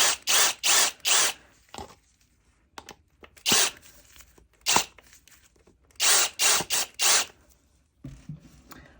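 Several short bursts of a power drill driving screws into wood close by, in clusters of three or four with quiet gaps and small clicks between.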